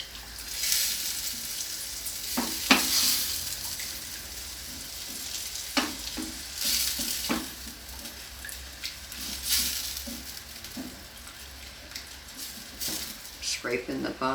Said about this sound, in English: scraping the bottom. Make sure we get all of that burnt bits incorporated into that gravy.